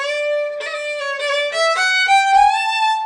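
A single bowed fiddle plays a short rising run of separate notes, clear and close, with no talking.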